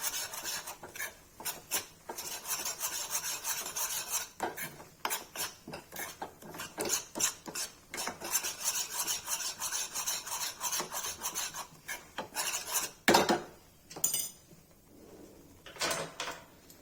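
Gram flour for a paneer tikka marinade is roasted in a pan. A spatula scrapes and rubs against the metal in a rapid, irregular rhythm, fairly quiet and close.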